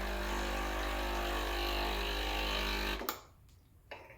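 Breville Barista Express BES860 espresso machine running a blank shot with no coffee, giving a steady loud pump hum and whir that cuts off abruptly after three seconds, followed by a couple of small clicks and drips.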